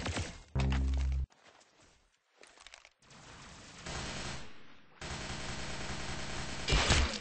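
Rapid gunfire bursts and thumping impacts from a multiplayer shooter video game, including a headshot, come in clustered volleys with brief gaps. The sound is loud and close.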